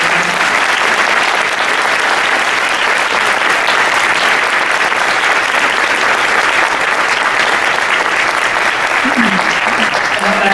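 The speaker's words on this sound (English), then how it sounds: "give them a round of applause" A banquet audience gives a loud, sustained round of applause for young drama performers, dense clapping filling the room without a break, with faint voices mixed into the crowd noise.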